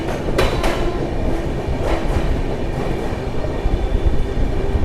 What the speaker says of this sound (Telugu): సో మన ట్రైన్ వచ్చేసి ప్లాట్ఫామ్ నెంబర్ 2కి అయితే వచ్చింది.